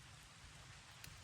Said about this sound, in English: So it's definitely raining.